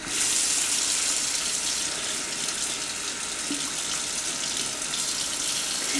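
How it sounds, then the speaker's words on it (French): Cold tap water gushes steadily into a bottle, a loud continuous close-up hiss of running water from a faucet with no voices. "vous mettez de l'eau froide. Et en fait donc vous remplissez votre bouteille."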